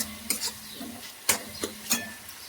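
A spice masala with chili powder and coriander powder sautéed in a pan, with quick scraping stirs of a utensil against the pan over a low sizzle, a few distinct close strokes.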